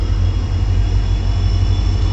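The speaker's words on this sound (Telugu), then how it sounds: "Kazipet Dadar express train entering Karimnagar platform number 1" Kazipet–Dadar Express train entering platform 1 at Karimnagar station, a loud steady low rumble with a faint high whine, continuous and close, no talk.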